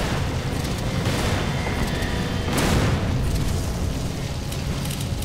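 Gunfire and booming blasts in Resident Evil 5, a few loud, heavy reports with a big burst near the middle over a dense, noisy game background.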